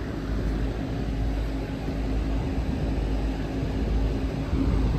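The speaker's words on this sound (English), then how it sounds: "Obviously the compressors are working." Air conditioning compressors running at a hot building's HVAC system, a dense steady mechanical roar with low hum, continuous and fairly loud, no talk.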